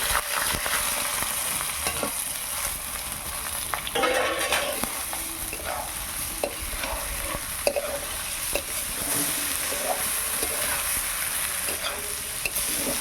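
Gobindobhog rice with raisins being stir-fried in a wok, a steady, moderately loud sizzle broken by repeated scraping and stirring strokes, with no talking.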